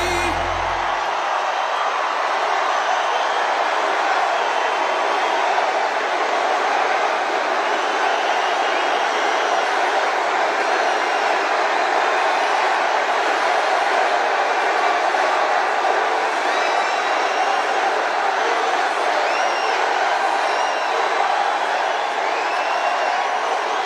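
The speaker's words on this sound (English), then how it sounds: "This is a big crowd." A huge crowd at a Trump political rally roars and cheers continuously for about twenty-four seconds, a dense, loud, unbroken wall of voices with scattered whoops and no single speaker.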